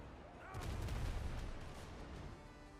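Ship cannons fire a broadside in a pirate sailing video game, a burst of several quick booms and crackling blasts rolling together, followed by a fading rumble; fairly quiet overall.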